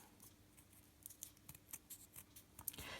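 Scissors snip craft paper for a flower in quiet, quick, crisp cuts over a few seconds, faint and close, with no talking.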